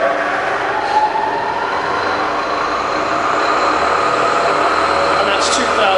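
Rebuilt Bridgeport milling machine spindle turning smoothly at about 500 RPM, a loud steady whirring drone with even tone throughout, running continuously and quietly without knocks.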